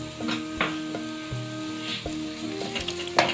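Ginger garlic paste sizzles and fries in a pot for beef pulao, a steady close crackle with occasional stirring clinks and scrapes, no voices.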